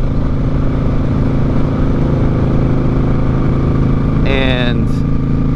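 A motorcycle engine drones steadily while riding on curvy Ohio roads in hot weather, a constant loud rumble with wind noise, and a short voice cuts in near the end.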